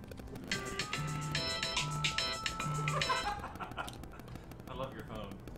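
A phone ringtone plays a repeating electronic melody in a Deep Rock Galactic game session, a few cycles over gaming sounds with a gunfire-like crackle, then fades as brief voices follow.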